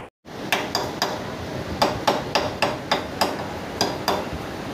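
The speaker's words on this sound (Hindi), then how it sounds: "हथौड़े की मदद से इसको बैठा दिए अच्छी तरह से" Sharp metallic hammer taps seat a handlebar cone race on a Honda Shine motorcycle. About a dozen close, distinct strikes come at an uneven pace, with short pauses between groups.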